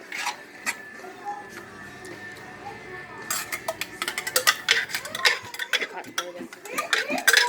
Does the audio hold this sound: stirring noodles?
yes